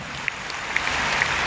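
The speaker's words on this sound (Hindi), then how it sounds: "चलिए अपने लिए एक बार जोरदार ताली बजाइए" Audience clapping at a DXN business meeting, a steady wash of applause with a few sharper individual claps standing out, fairly faint and brief.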